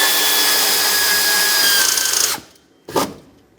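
Power tool snugging alternator bolts on a 2007-2014 Chevrolet Silverado 2500 HD 6.0L V8, a loud steady whirring run of about two seconds that stops, followed by one short second burst.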